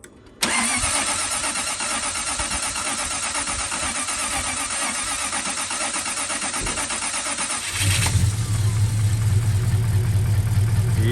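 An Alfa Romeo Montreal V8 engine cranks and catches, running loud and steady, then settles into a deeper, rumbling idle close by.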